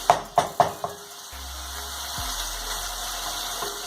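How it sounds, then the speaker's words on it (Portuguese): Chopped onion frying in a pan for a stuffed baked fish with bacon farofa, a few sharp clinks at the start, then a steady close sizzle with no talk. "Vamos deixar fritar um pouco aqui. Assim que a cebola der uma refogadinha"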